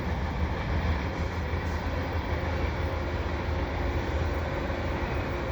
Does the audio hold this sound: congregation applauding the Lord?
no